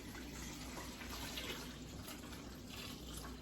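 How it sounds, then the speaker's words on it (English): Kombucha poured from a gallon batch into a pitcher, a steady broadband liquid rush that runs continuously at an even, close level with no talk. "So I'm going to pour this one into my pitcher."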